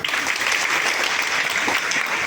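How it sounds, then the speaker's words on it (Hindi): Dense, steady applause from an audience at a women's CSR program event held by Fusion Finance in Guna, loud and continuous without a break. "एक बार प्लीज ताली बजाइएगा"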